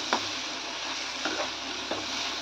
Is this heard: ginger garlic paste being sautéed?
yes